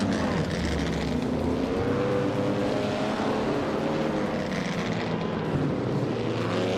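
Race car engines drone steadily in a racing video game, among them a classic 1952 Ferrari 375 Indy. The engine hum is loud and continuous, with pitch slowly shifting as the cars run together.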